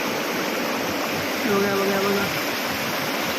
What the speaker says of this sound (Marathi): असं बाजूने पाणी वाहतं एकदम सुंदर